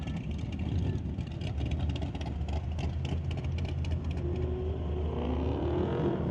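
A drag race car deep staging on the line at Mission Raceway Park in an ET Series race, its engine rumbling loud and steady close by with revving pulses, crowd and track noise mixed underneath.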